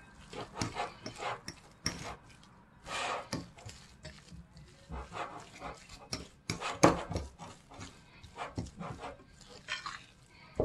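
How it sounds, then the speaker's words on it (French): A potato and tuna filling for brick pastries is stirred in a bowl, making irregular, quiet scraping and rubbing strokes up close, with short pauses between them. "Et je remue."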